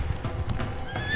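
Wild Mustang horses galloping across the Great Plains, steady hoofbeat clip-clop with repeated neighs and whinnies, loud and close throughout.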